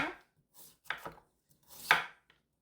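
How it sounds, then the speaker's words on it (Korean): A kitchen knife slices carrot into thin julienne strips on a cutting board, a few close, crisp chops spaced irregularly with quiet gaps between them. "당근도 채를 썰어 줄게요."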